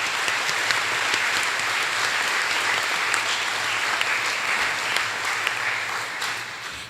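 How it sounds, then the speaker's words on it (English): A large audience at an academic convocation applauds continuously, a dense, steady wash of many hands clapping that holds for several seconds before easing slightly at the end, with no talk over it. "So another round of applause for students who have not had it easy for any of a variety of reasons."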